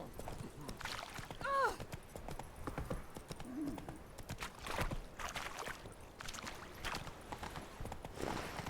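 Roach, the horse in The Witcher 3, trots with steady clip-clopping hooves through a game city, a brief whinny rising early on, with ambient game sounds underneath.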